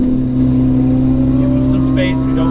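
A sports car, either a C8 Z06 or a Ferrari 488 GTB, downshifts on a race track with a steady, close engine drone while an instructor talks over it.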